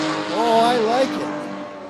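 A Porsche race car engine gurgles loudly and close by for a couple of seconds. Its pitch warbles up and down in a rough, burbling revving tone.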